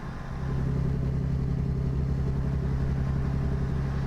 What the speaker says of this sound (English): Not exactly in love with this engine either. It sounds better than that last one